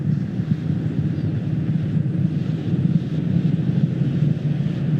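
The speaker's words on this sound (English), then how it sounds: "All three boosters burning bright there." A SpaceX Falcon Heavy rocket lifting off on the Viasat-3 Americas launch, all three boosters burning, gives a steady, dense, distant roar that holds without a break.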